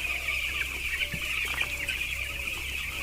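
Young chicks in an Assam poultry house cluck and peep steadily at a nipple drinker line, a busy flock chatter over a constant high hum.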